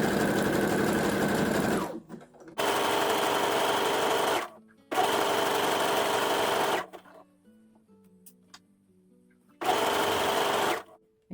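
A sewing machine stitches fold-over elastic, running loud and close in three long steady bursts with a shorter burst near the end, separated by brief pauses with quiet handling.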